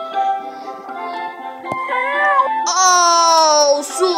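A cartoon cat in the Hi Kitties video game meows in loud, drawn-out, wavering cries that climb in pitch toward the end, heard up close and continuously.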